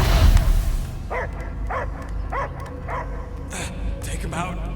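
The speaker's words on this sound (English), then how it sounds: "I hear only barking." A dog barks in a video game, a run of five or six short, evenly spaced yips and barks that come through clearly after a brief louder burst, with faint game sound underneath.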